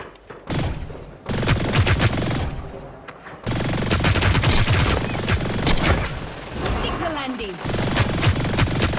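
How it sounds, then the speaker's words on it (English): Rapid video-game gunfire rattles in loud bursts and volleys with booming shots, dropping out briefly twice before resuming, while a voice talks over the shooting. "Who's shooting?"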